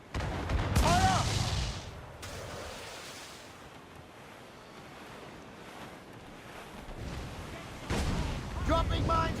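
Heavy cannon fire from sailing warships in a naval battle video game, with broadband booms near the start and end over a steady wash of ocean waves and wind; voices briefly shout between the volleys.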